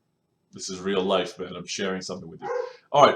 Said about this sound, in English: I need to press pause here because I got my dog barking.